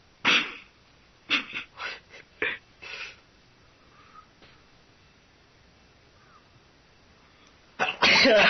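A man sneezes in a rapid burst of several sharp sneezes, then a pause with faint breaths, then a final loud, close sneeze.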